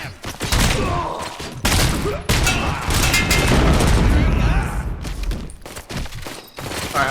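Heavy gunfire in the game Robocop: Rogue City, with loud, booming, rapid shots repeating over several seconds in a thick, continuous barrage and short gaps between bursts.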